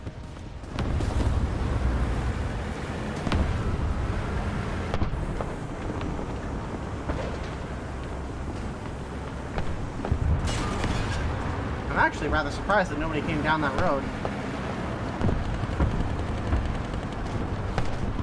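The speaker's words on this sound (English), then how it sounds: "They up the engine sound, as they say in the patch notes." A loud, steady low engine rumble from a vehicle in the video game War Thunder fills the background, with someone talking over it throughout.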